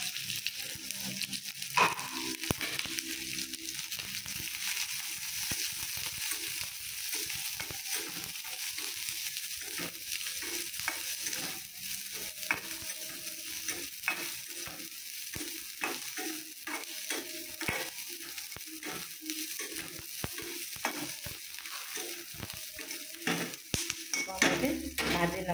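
Onion, garlic, green chili and ginger fry in hot oil for a capsicum gravy, a steady sizzle with repeated scrapes and clinks of a spoon stirring against the pan.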